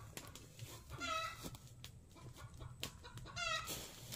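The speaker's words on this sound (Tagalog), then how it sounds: "Nangitlog ang manok." A hen clucks repeatedly in short, loud bursts close by, a rhythmic cackling that rises in two clear bouts, with faint background noise between.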